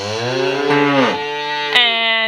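A nurse cow moos loudly and close by, one long drawn-out bellow with a rising and falling pitch, heard alone.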